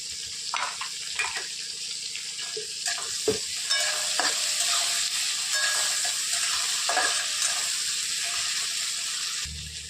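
Tomato and onion-garlic paste fries in a pan with a close, continuous sizzle, broken by occasional scraping strokes of a stirring spoon.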